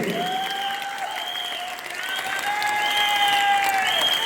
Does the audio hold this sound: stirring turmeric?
no